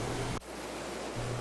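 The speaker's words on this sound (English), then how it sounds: "Looking back from the footbridge as the water thunders below" Central Cascade waterfall in Glen Cathedral thundering below a stone footbridge, a steady broadband roar of falling water heard close by, with a brief dip in intensity mid-way before the full rush returns.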